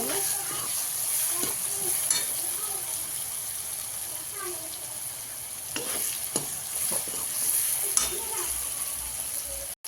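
Cooked vegetables for pav bhaji are stirred in a pan, with soft sizzling under repeated scraping and clanking strokes of a spoon. Someone talks over the cooking throughout.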